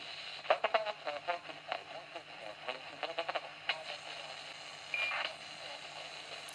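Several short, bright electronic beeps ring out from an AM airband and FM radio receiver over a steady hiss of static, irregularly spaced, with a longer tone near the end.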